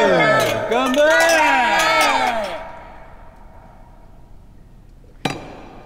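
Drinking glasses clink together in a toast: several voices ring out together, then after a short lull a single bright, sharp clink sounds near the end.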